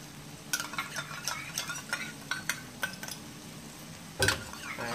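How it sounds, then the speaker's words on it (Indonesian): Beef stew with sweet soy sauce being stirred in a pan, a spoon giving a series of light scraping clinks against the metal at an irregular pace and then one sharper knock near the end, all fairly quiet with no voices. "Kita mau adukin di sini kecap manisnya,"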